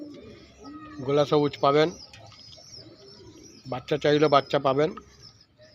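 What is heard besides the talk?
pigeons cooing at a pigeon seller's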